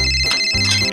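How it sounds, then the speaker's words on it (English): In the Roblox game Brookhaven, a phone rings with a loud, close electronic ringtone of bright melodic tones that runs for about a second with no talking over it. "Hope he picks up the phone."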